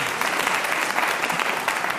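Scattered applause from a handful of audience members at a BBC radio panel game recording, a thin, steady patter of a few hands clapping for about two seconds with no other sound.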